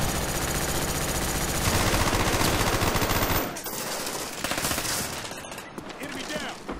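A MAC-11 submachine gun fires in Call of Duty Black Ops. A dense, rapid, sustained burst of shots runs for a few seconds, then drops into quieter game noise and scattered pops.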